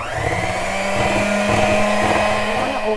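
An electric mixer whirs steadily through cupcake batter with milk, a close, continuous motor hum that swells slightly midway.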